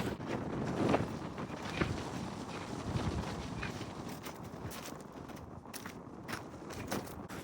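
Gusty wind on a mountain ridge near Donner Pass buffets the microphone in a continuous rough roar, with louder surges and a few sharp rustles, outdoors and fairly loud.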